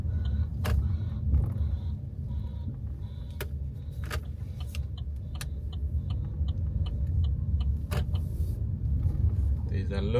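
A car drives slowly through an industrial area with delivery vehicles to park, its low engine rumble steady throughout with a few light clicks and knocks, and a person talks over it.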